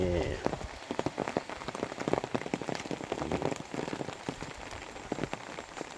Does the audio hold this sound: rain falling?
yes